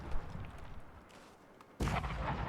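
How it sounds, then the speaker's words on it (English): A cannon emplacement firing at a fortified outpost in a strategy video game: one booming shot early, then a heavier blast near the end that keeps rumbling to the close, with no talk. "It would be really cool if one of you guys built a cannon emplacement instead of just shooting arrows at each other."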